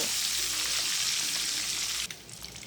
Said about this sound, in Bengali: এখন আমি ডিমগুলোকে কড়া করে ভেজে নিব